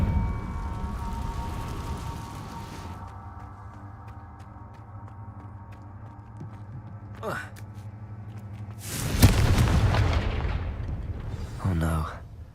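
A Confringo spell in Hogwarts Legacy sets off a sudden, loud fiery blast after a long quiet stretch of game ambience, with a shorter crackling burst close behind.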